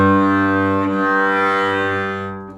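A violin string is bowed with a thin, poor tone lacking arm weight, one sustained note held for a couple of seconds before fading, close and alone.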